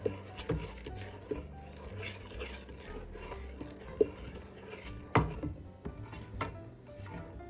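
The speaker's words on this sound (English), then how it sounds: "I'm just stirring it constantly" A spoon stirs melting sugar for caramel corn in a pan, scraping the bottom and sides. Quiet, irregular scrapes and light knocks against the pan come close by, with a few sharper clacks.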